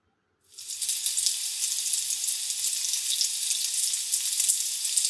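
Aloo paratha fries in desi ghee on a pan, a loud, steady sizzle that bursts in after a brief silence and holds evenly to the end, with no talking.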